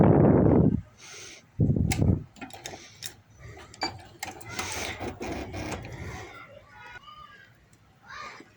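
A home sewing machine runs in bursts stitching the seam of a baby boy's hoodie shirt, with a double presser-foot margin. The short buzzing runs are loud and close, separated by pauses and light handling clicks.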